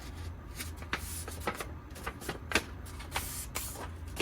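A paper junk-journal signature page being folded and creased by hand, a string of soft, close rustles and crisp paper snaps at a quiet level.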